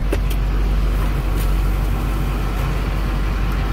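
A car pulling away, its steady low engine rumble running close and continuous throughout, with no speech.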